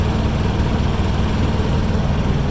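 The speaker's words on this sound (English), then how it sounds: "Nice, good sounding APU. Finally got it started" A truck's auxiliary power unit engine idling steadily up close, a constant low droning rumble with no breaks and no talk over it.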